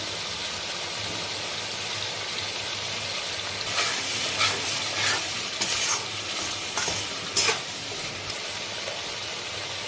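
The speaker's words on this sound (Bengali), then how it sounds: "টমেটো পিউরিটা দিচ্ছি সঙ্গে দেবো নুন" Tomato purée hits a hot pan and is stirred, a low steady sizzle with a cluster of scraping spoon strokes in the middle.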